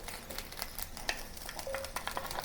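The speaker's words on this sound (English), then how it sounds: "now what I want to do is to saute with the oil by adding the green onions" Green onions sauté in oil in a pot, a soft close sizzle with light stirring clicks and scrapes scattered through it.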